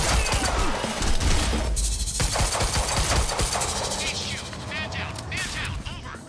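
Gunfire breaks out in the video game Quantum Break, a loud clattering barrage of shots with crashing impacts that gradually thins out, and game characters' voices can be heard amid the shooting.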